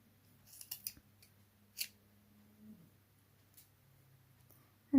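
Scissors snip through paper to cut out a circle for a honey bee craft, several crisp close cuts in a quiet room.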